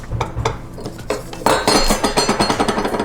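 Butter being creamed with sugar in a mixing bowl for a gluten- and dairy-free strawberry shortcake, heard as a steady run of close scraping and clinking strokes against the bowl, quickening into rhythmic beats partway through.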